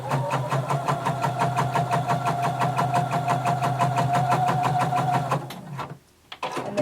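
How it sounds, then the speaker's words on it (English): A home sewing machine stitches fabric for a Simplicity 1283 pattern garment, starting with a back stitch: a steady, fast, loud mechanical whir with regular needle beats that runs for about five seconds, then stops with a brief handling rustle. "I'm going to back stitch at the beginning. And then I'm going to sew all the way till I reach this other dot."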